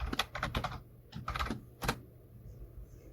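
A computer keyboard clatters in a quick burst of keystrokes, a short pause, then a few more taps and a final louder press, close and dry with no voices.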